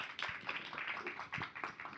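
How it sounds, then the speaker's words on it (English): Audience applause at a Toastmasters meeting, a dense patter of many hands clapping steadily for about two seconds, moderately loud with no talking. "Another big round of applause"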